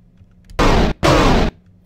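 Wraith cannons fire in the space strategy game Nexus: The Jupiter Incident, heard as two loud, sharp blasts in quick succession. Each blast is broad and harsh and cuts off abruptly, with near silence before and after.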